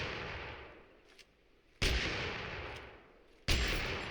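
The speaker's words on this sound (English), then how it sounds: "the shotguns, I shall demonstrate now" Mossberg shotgun blasts fired from the hip in a video game: two loud, sharp booms about a second and a half apart, each tailing off into a long decaying rumble, with quiet background between and no talk.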